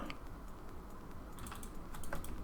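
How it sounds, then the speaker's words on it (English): Fingers type on a computer keyboard in a quiet room while coding, a faint, steady patter of key clicks with a few slightly louder taps near the end, no speech. "Am I typing this right?"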